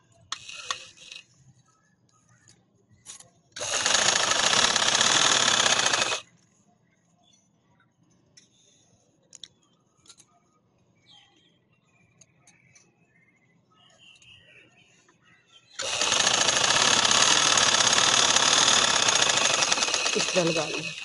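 A sewing machine stitches a full-sleeve winter garment in two long, steady whirring runs, close and loud, separated by a quieter stretch of fabric handling and small clicks.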